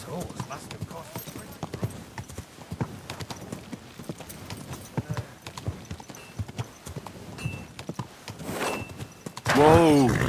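Horse hooves clip-clopping in the video game Kingdom Come Deliverance II, a steady walking beat under continuous talk, ending in a sudden louder burst of horse noise.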